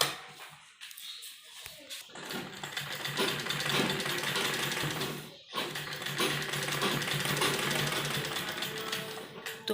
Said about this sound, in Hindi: तो पहले हम बीच में सिलाई लगाएंगे ताकि हमारा जो डिजाइन है ऊपर नीचे ना सरके।